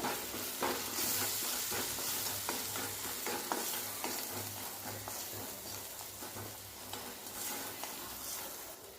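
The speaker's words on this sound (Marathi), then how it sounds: "आता हे मसाले थोडं भाजून घेऊया" Garam masala and paneer masala roast in a hot pan for a methi matar malai curry, giving a continuous loud sizzle with repeated scraping stirs of a spoon across the metal.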